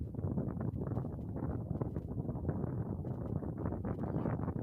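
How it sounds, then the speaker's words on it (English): Wind buffets the microphone with a steady, close rumbling roar and uneven gusty flutter throughout. "It's also windy."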